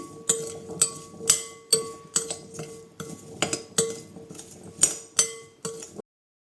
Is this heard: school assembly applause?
no